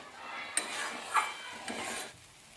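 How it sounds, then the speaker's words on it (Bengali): Bottle gourd leaves frying and being stirred in a pan, with a soft continuous sizzle and a few sharp utensil scrapes and clinks against the pan, close and alone. "পাতাটা ভালো করে ভাজতে হবে।"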